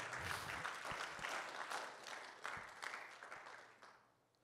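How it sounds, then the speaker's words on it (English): A church congregation claps their hands during a sermon, a dense, sustained burst of applause from many people that fades toward the end, with no talking over it. "Someone clap your hands like you agree with me today."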